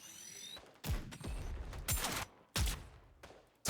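Gun reloading in a video game, a series of sharp mechanical clacks and metallic snaps spaced about a second apart over low background noise, with no talking.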